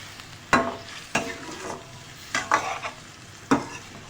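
Achari macaroni with spices being stirred in a pan, with four or five distinct spatula scrapes against the pan over a soft, low sizzle, close by and without speech.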